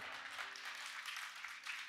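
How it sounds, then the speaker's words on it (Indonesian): Audience in a church clapping during a sermon, a soft, steady wash of applause heard from a distance for a couple of seconds. "Siapa suruh tepuk tangan?"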